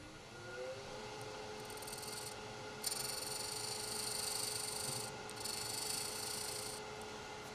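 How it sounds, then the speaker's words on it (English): A small skew chisel held flat as a scraper against spinning cypress wood on a lathe, giving a steady, close rasping hiss over the motor's constant hum, with slight surges as the cut continues. "And I'll just sort of use it as a scraper."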